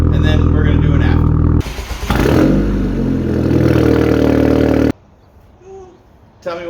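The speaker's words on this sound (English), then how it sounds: "real quick cold start just to see what it's going to sound like, because again, this car is going to be straight pipe" A straight-piped B6 Volkswagen Passat 2.0T cold-starts, a loud cranking burst that rises into a rough, rumbling idle for about three seconds and then cuts off abruptly, with a voice talking over the engine.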